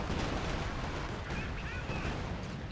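Anti-tank overwatch fire destroys a Panzer IV in Company of Heroes 2, a dense wash of battle noise with booming artillery and gunfire rolling steadily under a caster's voice.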